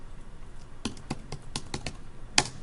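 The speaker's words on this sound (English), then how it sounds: "then type in my name" A name is typed on a computer keyboard: about a dozen separate, fairly quiet key clicks come at an uneven pace, ending with one sharper, louder tap, with no talking.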